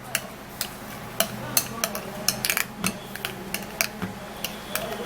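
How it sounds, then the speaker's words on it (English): Okra seed beauty remedy being stirred in a bowl, with light irregular clinks and taps of a utensil against the dish scattered over a few seconds, close and fairly quiet. "So now I will then have to mix it"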